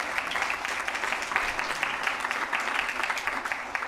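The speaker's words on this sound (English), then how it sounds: "we can give them a round of applause." A round of applause in a school board meeting room, a continuous, even patter of many hands clapping, fairly quiet and a little distant, with no one speaking over it.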